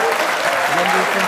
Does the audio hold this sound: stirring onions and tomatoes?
no